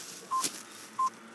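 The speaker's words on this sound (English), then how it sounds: "that was a sound effect in the movie. It's not much of a ringtone" A movie phone ringtone sound effect of two short, clean electronic beeps, evenly spaced under a steady hiss, with no talking.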